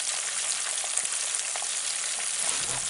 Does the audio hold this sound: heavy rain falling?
no